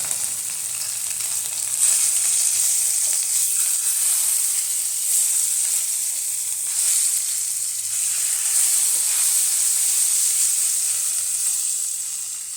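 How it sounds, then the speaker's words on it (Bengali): Parshe fish fry in a pan over high heat, giving a steady, loud sizzle and hiss that carries on without a break, with no talking. "এবার আমি পার্শে মাছগুলো ছেড়ে দেবো। একটু ভাজা হবে"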